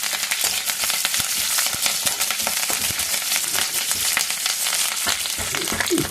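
Tempering spices sizzle and crackle in hot oil for a tomato and red chilli pachadi, a loud, dense frying hiss with sharp pops and stirring scrapes, close and continuous.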